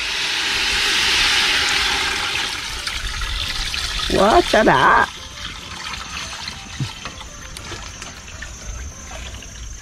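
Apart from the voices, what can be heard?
water poured into pot for rice noodle soup broth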